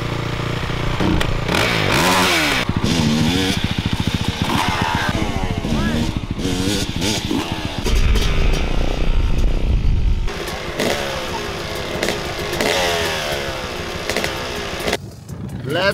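A kick-started Honda motorcycle engine runs and revs on a farm, rising and falling in loud, rough bursts close by over about sixteen seconds, with voices talking and shouting over it.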